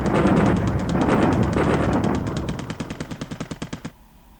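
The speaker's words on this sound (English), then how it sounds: "Now we have the strike from the Dutch Air Force." Air strike gunfire in the War in the Pacific strategy game: a dense burst of loud rapid machine-gun fire that thins into evenly spaced individual shots before cutting to silence.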